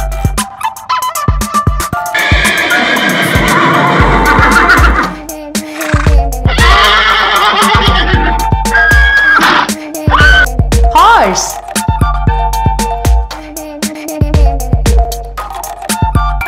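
Horse neighing, loud and close, as a long whinnying call that rises and falls over several seconds with a second burst after a short gap, mixed with clear spoken narration, music and other animal noises from a children's learning program.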